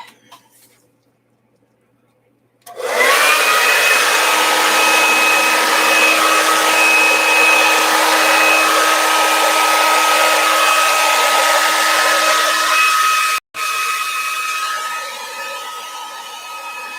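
Hair dryer blowing steadily on acrylic fluid art paint, starting abruptly after a quiet stretch and running loud and continuous with a steady whine, cutting out for an instant near the end before resuming.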